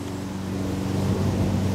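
Steady engine drone of a neighbor's lawn mower in a suburban backyard near a pond, a continuous buzzing hum at moderate distance, slightly rising in level, heard alone without speech.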